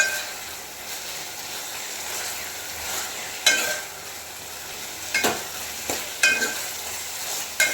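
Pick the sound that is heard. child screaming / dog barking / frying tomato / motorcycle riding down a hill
frying tomato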